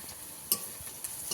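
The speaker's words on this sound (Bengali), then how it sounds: "একটু তেলে ভাজা হবে" Faint, steady sizzling of greens and poppy seeds frying in oil, with a couple of brief clicks from stirring.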